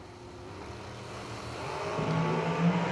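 Drag race cars running a 450 index race at Galot, a steady engine roar growing louder toward the end, with no one talking.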